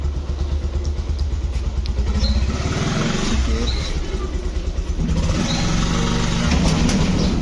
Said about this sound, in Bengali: মোটরসাইকেল যোগে রওনা দিলাম।